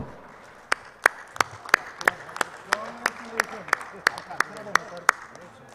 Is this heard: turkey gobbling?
no